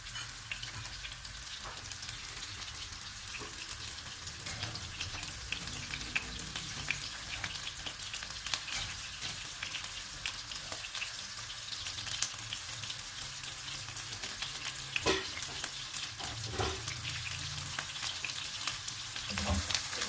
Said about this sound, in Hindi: ऑयल में प्याज ब्राउन की जाएंगे।